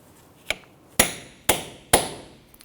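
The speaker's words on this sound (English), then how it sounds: "you can use a punch and you want to go ahead and dimple the axle nut into that notch there" A hammer strikes a metal punch to dimple the axle nut on a Honda Ridgeline front hub: four sharp, ringing metallic blows about half a second apart, close and loud, with no speech.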